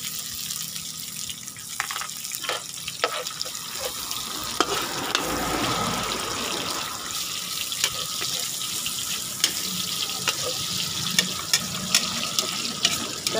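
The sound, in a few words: garlic and onion sautéing in a pan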